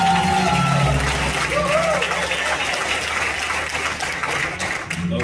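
A church congregation at a worship service applauds its choir with a dense, sustained patter of clapping. A few voices and an organ-like tone sound faintly beneath it.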